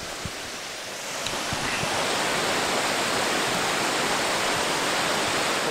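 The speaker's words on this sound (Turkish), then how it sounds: "Sesi gelmeye başladı şırıl şırıl şelalenin." Tortum Waterfall in Erzurum, Türkiye, rushing as a loud, continuous broadband roar of falling water heard from close by, swelling slightly after the first second, with no talk.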